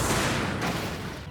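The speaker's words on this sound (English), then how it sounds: "that's the sound of the charge punch" A heavy, crunchy impact burst with a sustained rumbling blast, loud and dense throughout, a robot's charge punch in a Nintendo Labo Robot Kit game.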